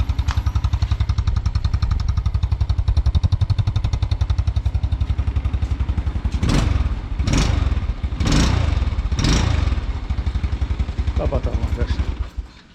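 An old Kanuni Cup 100 motorcycle with 18,000 km on it, freshly filled with Shell 15W40 oil, idles close by with a steady rapid exhaust putter, then gets four quick throttle blips midway before settling back.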